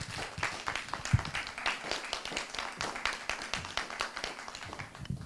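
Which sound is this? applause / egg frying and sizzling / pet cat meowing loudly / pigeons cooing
applause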